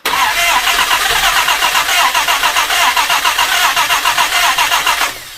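A Jaguar E-Type 2+2 under restoration cranks and fires, its engine catching almost immediately and then running loud and close with a rapid, even pulsing idle before it cuts off abruptly at the end.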